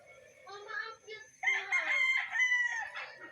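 A handsome rooster on a gamefowl farm crows close by, two drawn-out cock-a-doodle-doo calls with a short pause between, loud and clear over quiet surroundings.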